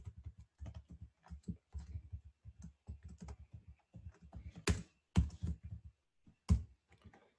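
Close, quiet typing on a computer keyboard while writing ABAP code: uneven bursts of key clicks, with a few louder, sharper keystrokes near the end and no talking.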